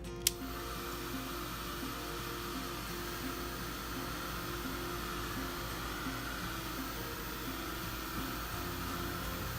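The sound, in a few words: hair dryer drying a napkin art card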